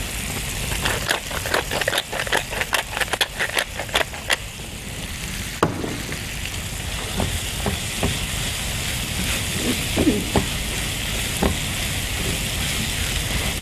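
Onions sizzle steadily in a hot pan as the base for scalloped potatoes, a continuous frying hiss with clusters of sharp crackles and pops, close and moderately loud, with no talking.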